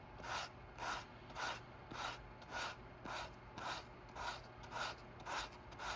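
Leather edges are hand-sanded in one direction with about eleven evenly spaced, soft rasping strokes. The sound is close but faint, with no talking.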